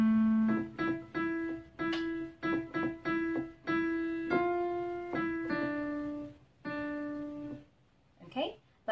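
The opening phrase of a song played on piano at a beginner pace: a series of separate, close notes in an uneven melodic rhythm, a short pause near the end, then a faint voice.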